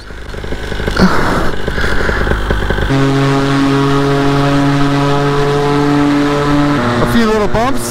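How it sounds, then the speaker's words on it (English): Paramotor engine and propeller running close by, a loud droning buzz with a steady tonal hum that shifts pitch partway through, with a brief rise near the end; someone talks over part of it. "Now the paramotor seems to work"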